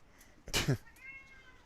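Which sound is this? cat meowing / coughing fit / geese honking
cat meowing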